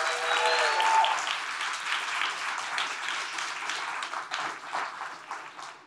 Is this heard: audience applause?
yes